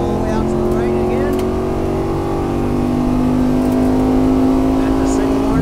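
A race car driven hard around a driving course, its engine droning loud and steady with a rising rev as it accelerates, while an instructor's voice talks over it.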